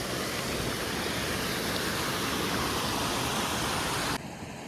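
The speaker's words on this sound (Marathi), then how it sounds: "आमच्या इकडची मोठी नदी." A big river rushes past in a deep forest, a broad steady roar of flowing water close by that cuts off abruptly near the end.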